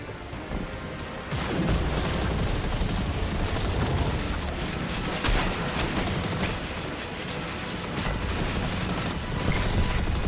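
Linear fusion rifle fire in the shooter game Destiny 2, heard as dense continuous booming blasts and crashes over a busy game soundscape, loud and sustained throughout.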